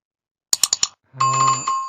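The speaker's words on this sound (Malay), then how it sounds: "loceng dah bunyi, nak habis dah tu" Four quick metallic taps, then a steady electronic school bell tone rings loudly for under a second, close by.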